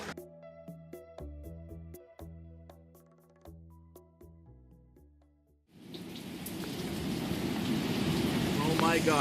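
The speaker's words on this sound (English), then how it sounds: "That's hail." Hail pelting a wooden deck and garden during a storm, a sudden dense roar of hard impacts that swells and stays loud after a stretch of quieter tonal sound.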